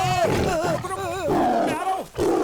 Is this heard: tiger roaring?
yes